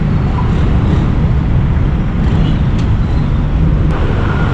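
Road traffic with cars passing nearby, a loud continuous low engine and tire rumble with a steady roadway wash and no clear breaks.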